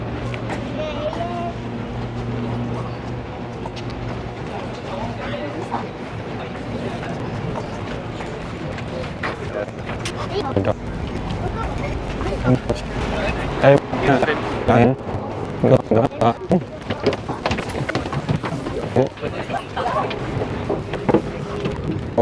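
A large cruise boat carrying passengers moves on water, giving a steady engine rumble and wash throughout, with people talking in the background.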